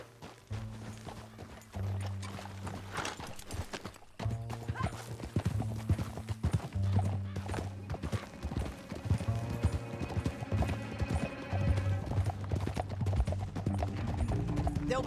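Horses gallop in Red Dead Redemption 2, rapid rhythmic hoofbeats clopping close and loud over a low droning musical score, with a whinny and occasional thuds as the ride continues steadily.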